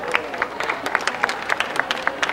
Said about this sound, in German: Herzlichen Applaus für die Frau Poschen.